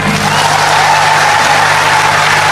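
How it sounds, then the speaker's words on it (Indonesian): A live audience at a stand-up comedy show in Indonesia applauds, a dense, steady wash of clapping with some cheering that stays loud throughout. "coba tepuk tangan"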